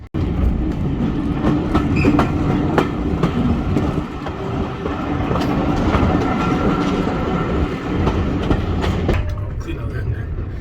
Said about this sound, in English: I'm going to go towards the window so you can hear the engine